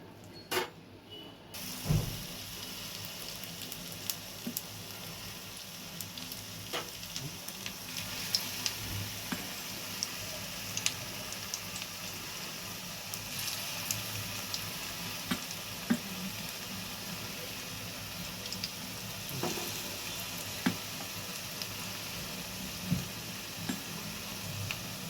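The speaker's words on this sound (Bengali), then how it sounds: "আমি এবার পরের পকোড়াগুলো আমি একেবারে ভেজে নিয়ে তোমাদের দেখাচ্ছি" Cabbage pakoras deep-frying in hot oil, a steady crackling sizzle that runs throughout with occasional sharper pops and clinks, close and moderately loud, with no voices.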